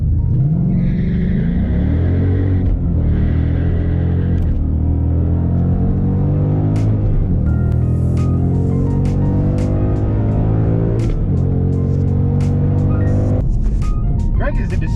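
A Volvo V60 Polestar and a Mustang GT rev and accelerate at a drag strip, engine notes rising and dropping in repeated gear sweeps, loud and close, with sharp transient bursts later on.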